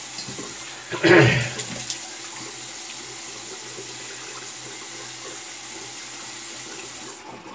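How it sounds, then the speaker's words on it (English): A bathroom tap briefly gushes for rinsing after a shave: one loud splash of running water near the start, then quiet room tone. "Let's rinse and see where we're at after 2 passes."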